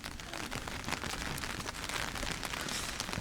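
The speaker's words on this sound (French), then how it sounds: "on a vraiment un sale temps là, il pleut bien" Steady rain falling outdoors in Japan during bad weather, a dense continuous hiss of drops on surfaces and an umbrella, filling the whole clip at an even level with no talk.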